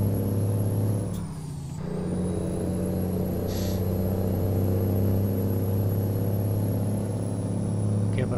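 A VW Titan truck in a video game mod shifts up through its 16-gear box, the engine droning steadily and then dipping briefly as a shift happens, with a sharp hiss of air brakes near the start.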